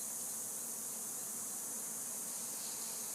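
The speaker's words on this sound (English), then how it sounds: "And you can hear them swarming above." Swarming bees at a hive built inside a wall, suspected killer African bees, a steady faint hum and high hiss that stays even throughout, with no voices.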